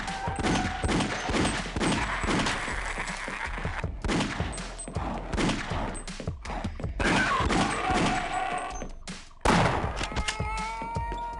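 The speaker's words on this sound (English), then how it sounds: "the shotgun needs to be super duper close range in this one" Repeated shotgun blasts and pumping in a Half-Life-style shooter, close heavy shots in an irregular rhythm over about eleven seconds, mixed with thuds and mechanical clatter.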